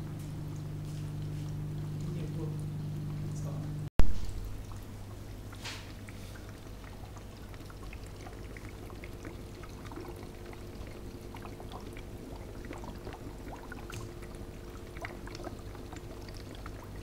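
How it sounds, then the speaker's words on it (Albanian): Water is poured into a brine shrimp hatching container, a steady low splashing pour that stops abruptly, followed by a quiet bubbling trickle and faint hiss. "Ja hudhni edhe disa ujë."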